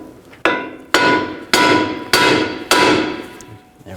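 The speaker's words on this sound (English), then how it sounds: "you can take a hammer and give it a tap right here and try to break this free" Five sharp metallic hammer taps, about half a second apart, strike a ball joint on a 2004-08 Nissan Maxima front wheel hub to break it free. Each blow rings briefly, close and loud.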